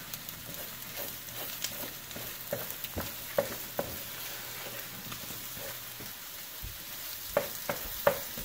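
Egg fried rice being stir-fried in a pan, with vegetables, rice and scrambled eggs: a steady low sizzle runs beneath scattered scraping and clinking knocks of a utensil against the pan, near and fairly quiet.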